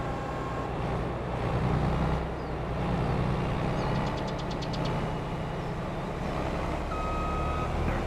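A truck in Farming Simulator 22 backing up: a rapid series of short reversing beeps rising over a loud, steady engine drone, with no talk.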